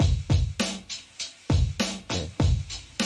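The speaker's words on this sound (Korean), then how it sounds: "드럼 들어볼게요." A drum kit runs through the Sound City Studios room emulation plugin with a tight setting. Kick and snare hits land in a steady groove with cymbal wash, loud and close, with no talking.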